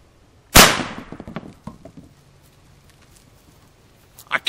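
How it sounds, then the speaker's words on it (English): A shotgun blasts once at bowling pins in a video game: a single loud, sharp report near the start, followed by scattered clattering of pins, then quiet with a faint knock at the end. "I shoot it with a shotgun."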